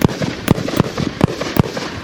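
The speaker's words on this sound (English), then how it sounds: "so those are the mortars" Fireworks mortars going off in a rapid series of sharp, loud bangs roughly every quarter to half second, heard as playback from a video, with faint crackling between the blasts.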